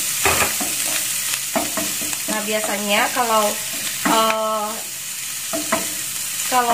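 Clams are stir-fried in a pan with cooking oil for fried rice, giving a loud, steady sizzle and scraping stir strokes, while someone talks over it throughout.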